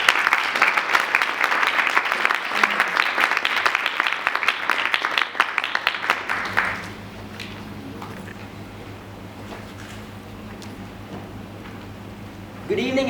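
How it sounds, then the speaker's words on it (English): Audience applause welcoming a speech anchor at a youth leadership program evening, a loud sustained wave of many clapping hands for about six seconds that then cuts off into quiet room tone. "a thunderous round of applause"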